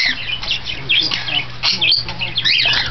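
Pet parrots, including a rosella, chirp, squawk and call in bursts close by indoors, with people talking quietly beneath the busy bird chatter.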